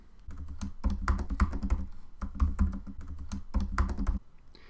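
Fast typing on a computer keyboard while filling in a registration form, dense clusters of close key clicks in quick bursts with short pauses between.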